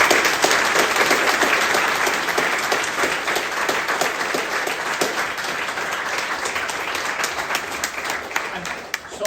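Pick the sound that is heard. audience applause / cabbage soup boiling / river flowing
audience applause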